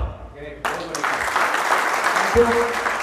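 Audience applause at an RCM celebration ceremony swells suddenly and holds as a dense, steady clatter of clapping, with a voice speaking at the start.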